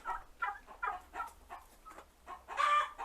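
A small backyard flock of hens and roosters clucks in short, close bursts at a rhythmic pace, ending in a louder, higher squawk.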